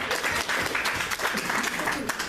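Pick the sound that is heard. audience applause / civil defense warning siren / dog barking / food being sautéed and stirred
audience applause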